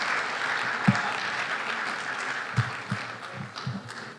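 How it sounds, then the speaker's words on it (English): Conference audience at a Ghana CEO Summit applauding after a speech, a moderate stretch of clapping that thins out, with a few sharper claps near the end. "ladies and gentlemen, a round of applause for Mr. Kwame Jantua"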